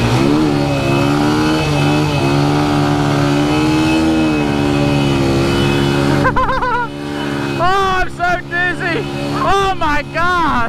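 Four-wheeler ATV engine revving loudly and steadily up close, pitch rising and falling with throttle, with excited voices and shouting over it during a fast ride.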